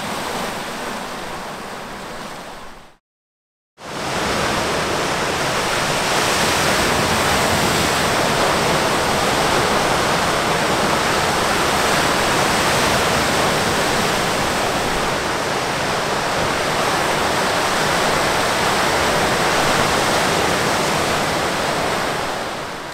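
Large waves crash steadily along a wilderness inland sea shore, a loud, continuous roar of surf with no pauses except one brief dropout near the start, no voices over it.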